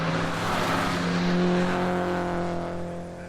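Porsche race cars at Brands Hatch howling past in close succession, loud sustained engine tones swelling and then fading as the pack moves away.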